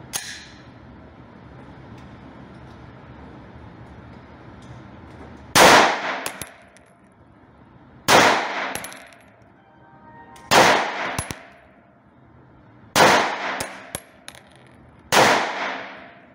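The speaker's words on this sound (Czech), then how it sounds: "Tak střelbu jsem dokončil." Five sharp gunshots ring out at steady intervals of a few seconds during target shooting, each followed by a short echoing decay, after a quiet stretch.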